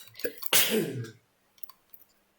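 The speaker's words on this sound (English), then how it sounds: "I sneezed" A single sharp sneeze, close and loud, comes after a quick intake of breath, then fades into near silence with a few faint small sounds.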